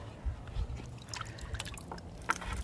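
Freshly dyed cloth lifted from an indigo dye vat lets liquid dribble and trickle back into the pot, a soft, close, uneven patter of drips and small splashes with no talking.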